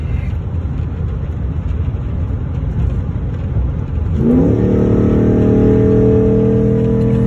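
A car engine in a racing video game roars steadily, then revs up sharply into a loud, sustained high-pitched whine with layered engine tones.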